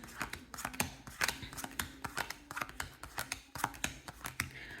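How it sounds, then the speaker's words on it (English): Quick riffle shuffle of a deck of Level 10 playing cards on a table, a run of crisp, close flutters and taps in irregular bursts, with no talking. "So I'm going to give it a 1 quick shuffle and then deal out 7 cards for the 2 players."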